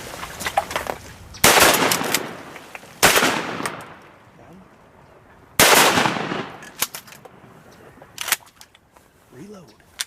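Gunfire at a flooded farm pond in Arkansas in fog: three loud close shotgun-like blasts several seconds apart, each with a long rolling echo, between smaller sharp pops and clicks, with a few voices talking briefly.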